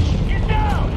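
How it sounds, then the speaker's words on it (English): Hellfire missile from a Predator drone strikes in a Medal of Honor video game, a single heavy, close boom with rumbling low end lasting about a second, with a voice over it. "Bring that Hellfire in."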